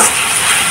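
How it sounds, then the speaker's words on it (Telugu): Tomato tipped into a pan of frying ridge gourd peel, green chillies and garlic, giving a brief, loud, bright hiss of sizzling oil. "ఇప్పుడు ఇందులోకి టమాటా కూడా వేస్తున్నాను"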